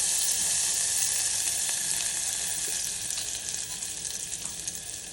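Whole spices such as pepper, cinnamon and bay leaf frying in two spoons of coconut oil in a small pressure cooker on the stove, a steady close hiss that eases slightly toward the end.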